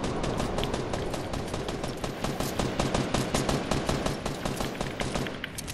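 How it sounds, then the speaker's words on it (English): Rapid automatic gunfire in the Fortnite video game, a dense stream of sharp close shots fired in quick bursts almost without pause, loud and alone. "what are you shooting at, my dude?"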